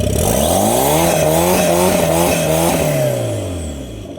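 A loud turbocharged Daihatsu Move L9 engine, two-wheel drive, revs hard and steadily, its pitch rising and falling through several surges before easing off at the end.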